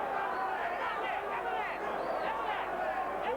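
Boxing arena crowd at the 1984 Larry Holmes versus James Bonecrusher Smith fight, a steady roar of murmuring and excited voices swelling as a punch lands, heard throughout without a clear break.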